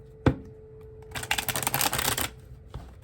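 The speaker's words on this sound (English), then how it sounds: "One more. Quick shuffle." A deck of tarot cards gets a quick riffle shuffle: a sharp snap, then about a second of dense, crisp fluttering at close range, followed by a soft tap. Nobody talks.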